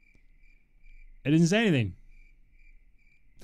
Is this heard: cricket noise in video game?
yes